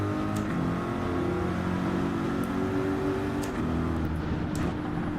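A Corvette race car engine drones steadily in Gran Turismo during a GT3 championship race at St Croix, holding a sustained harmonic tone with only slight pitch shifts.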